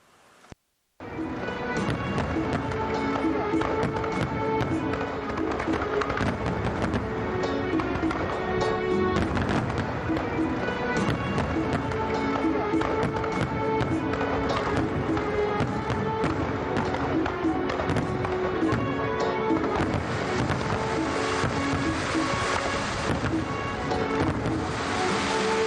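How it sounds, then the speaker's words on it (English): A fireworks show at a ceremony at the headquarters of the People's National Army: dense, continuous crackling and repeated booming bursts, loud and sustained for about 25 seconds after a brief quiet start. "The ceremony ended with a fireworks show."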